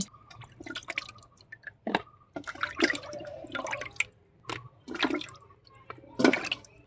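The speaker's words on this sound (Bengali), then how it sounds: "মাছটা আমি একটু ধুয়ে নিচ্ছি" Fish being washed with water in a kitchen: intermittent splashing and pouring bursts with drips between, close and fairly quiet, no talking.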